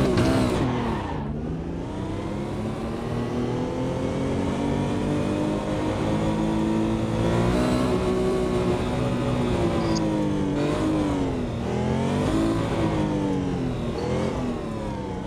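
A racing car engine in a racing simulator game, an older car, loud and continuous, revving up and dropping back through gear changes with no talk.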